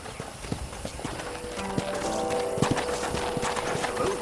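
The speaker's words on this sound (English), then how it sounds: "let's see if you can still ride a horse." Horse hooves clip-clop steadily while riding in Red Dead Redemption on PS3, a quick even rhythm over a bed of game ambience, with a brief whinny-like tone in the middle.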